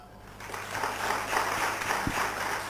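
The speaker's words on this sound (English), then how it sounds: "Please have a big round of applause." Audience applause at a college conference, a wash of steady clapping that swells after a quiet start and stays even for a few seconds.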